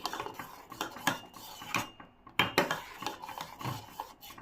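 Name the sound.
stirring thickened almond milk in a pan on low flame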